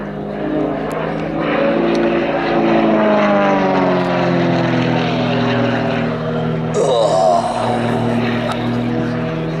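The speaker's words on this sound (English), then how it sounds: "he just hangs it up on the prop and kicks it over the top in a stall turn" Aerobatic propeller aircraft performing a stall turn at an air and car show, its engine a loud, sustained droning roar whose pitch bends and shifts as the plane climbs and pivots over the top.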